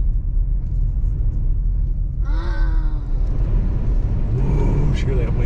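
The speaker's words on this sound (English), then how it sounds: "Whoosh, hear that wind." Strong wind gusts across Pikes Peak during a dust storm on a mountain drive. A steady, heavy low roar and buffeting rumble run throughout, with a voice breaking in briefly partway through.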